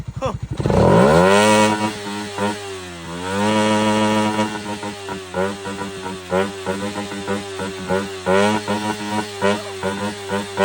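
A Suzuki Raider Fi motorcycle fitted with ram air revs hard up close, with a sharp opening blip, a sustained high rev, then a quick series of short throttle bursts, loud and raspy.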